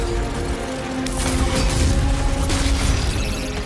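Dense, continuous gunfire and heavy mechanical clatter from the first-person shooter Doom: The Dark Ages, loud and relentless with sharp impacts layered over a booming low rumble.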